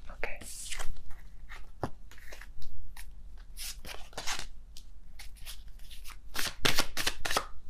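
Tarot cards being shuffled for a Virgo reading: quick, papery riffling and slapping in irregular bursts, close and fairly loud throughout, with some soft handling noise between flurries.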